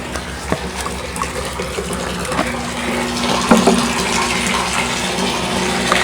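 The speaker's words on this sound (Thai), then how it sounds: "แล้วก็เทลงไปเลยนะคะท่านผู้ชมคะ" Liquid RD fertilizer poured into a water jar for a durian orchard irrigation system, heard as a steady loud gushing, splashing water flow that runs continuously without pause, with no talking.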